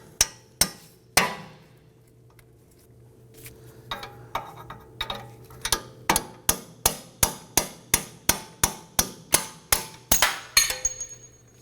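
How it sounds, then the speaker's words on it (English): A hammer tapping out the upper ball joint bolt on a 2003-2014 Volvo XC90 front knuckle, a few sharp metallic strikes and then a steady run of about fifteen evenly spaced ringing blows, close and loud. "I'm going to start by tapping out our upper bolt."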